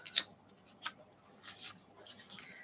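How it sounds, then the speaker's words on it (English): Scissors snip colored cardstock for card fronts, with a sharp cut at the start followed by a few softer snips and rustles, close and quiet. "I'll cut these down smaller."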